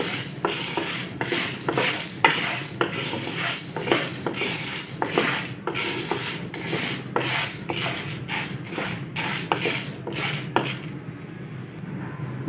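Popcorn kernels are stirred with oil and salt in a pan, a spoon scraping and clacking against the metal in a steady rhythm of repeated strokes, close and fairly loud, ending in near quiet.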